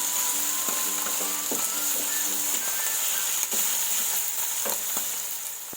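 White onions and mixed vegetables frying in a pan for restaurant-style chicken and vegetable fried rice, giving a steady close sizzle with scattered stirring scrapes and clicks across the whole stretch, and no one talking.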